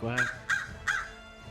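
A crow caws three times in an even rhythm, harsh and fairly close, followed by quiet background.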